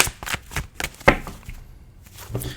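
A deck of tarot cards is shuffled by hand in a run of soft, uneven riffling bursts and brisk slaps, close up and moderately loud, with a sharper snap partway through and quieter rustling afterward.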